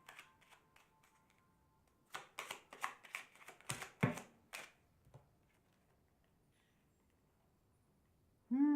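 Tarot cards are shuffled nearby in a quiet room, a soft rippling burst of rapid riffling flicks in the middle with a few faint taps before and after.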